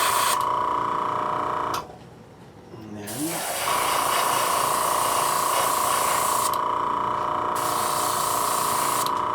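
An airbrush sprays paint in a steady, close hiss that runs for most of the stretch, broken by one short pause partway through.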